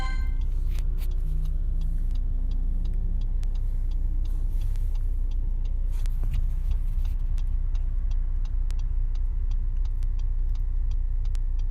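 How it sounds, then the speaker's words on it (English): A car drives along at steady speed, its engine and road rumble forming a loud continuous low drone with a faint regular ticking layered on top, no talking throughout. "I can't turn this car around that easily."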